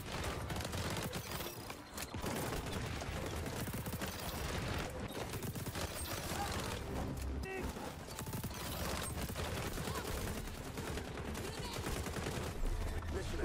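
Continuous rapid gunfire fills a first-person shooter match, with dense overlapping shots and automatic bursts steady throughout and loud against the background. Voices talk underneath the shooting.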